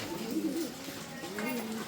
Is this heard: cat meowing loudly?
no